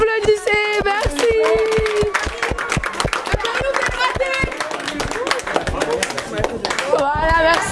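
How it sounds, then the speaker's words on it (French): A gathering of people claps in scattered, sharp bursts that continue through most of the stretch. The clapping stays close and sits under prominent talking voices. "Allez, applaudissez"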